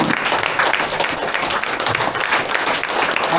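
An audience at a DXN company meeting in an indoor hall breaks into sustained applause, a thick, even wash of clapping that stays loud for several seconds without speech.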